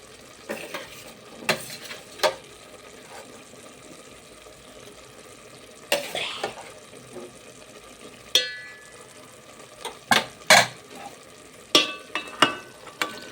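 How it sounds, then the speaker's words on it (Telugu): Potato pieces stirred into a frying village-style aloo kurma, a low simmer broken by scattered spoon scrapes and clanks against the pot that come in quick clusters near the end, close by with no voice. "మనం కట్ చేసుకున్న ఆలు ముక్కలను కూడా వేసి చక్కగా ఒకసారి బాగా కలుపుకొని"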